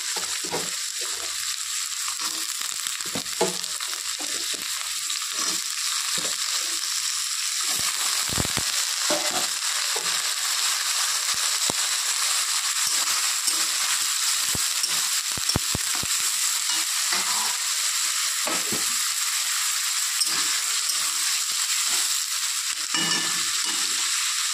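Finely diced potatoes and onions crackle and sizzle in a hot pan, a continuous bright frying hiss with occasional scraping stirs and spatters, steady and close with no talking.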